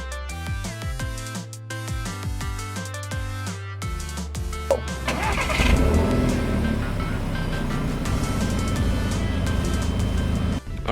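A Volkswagen Scirocco with a 1.4 TSI engine and seven-speed dual-clutch transmission fires up after a stretch of music, then settles into a steady, loud engine drone.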